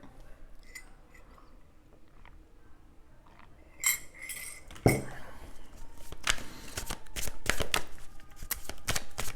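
Oracle cards being shuffled and cut by hand: soft papery riffles at first, then louder, rapid slapping and flicking bursts that grow denser toward the end, close to the microphone with no talking.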